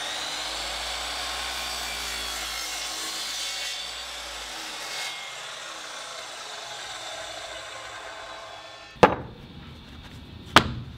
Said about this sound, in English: The cutting to length is done with a miter saw.